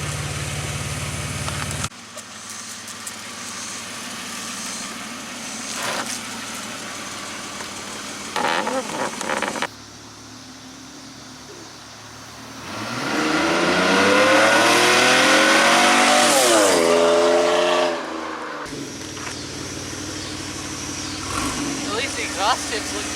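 Car engine with a loud aftermarket exhaust idling and then revving hard, the pitch sweeping up and back down in a long rise, with cuts between idle and rev sections and someone talking briefly.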